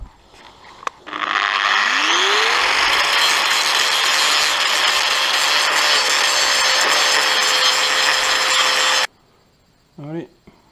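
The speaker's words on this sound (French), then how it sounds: "maintenant on meule un petit coup ça" An angle grinder works the metal chassis of a boat trailer, spinning up with a rising whine into a loud, sustained abrasive screech for several seconds, then cutting off and winding down.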